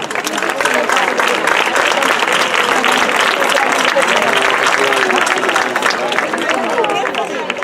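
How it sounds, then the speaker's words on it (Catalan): An audience claps loudly for the gegantons dancers at an end-of-year dance school show, a close, sustained stretch of dense applause with voices and crowd chatter underneath. "I conforto un aplaudiment pels gegantons"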